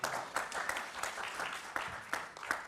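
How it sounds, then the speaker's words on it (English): A panel-forum audience applauds for a few seconds, a dense patter of many hands at moderate distance with a few sharper individual claps standing out. "Yes, you can clap if you like."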